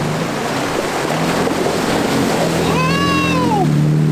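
An off-road Toyota Tacoma pickup without a snorkel crosses a river at Bowman Lake, California, with continuous loud rushing water and wind noise and a brief high whine partway through.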